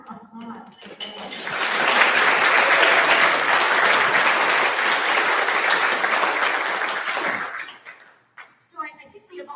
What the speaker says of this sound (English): one more applause for them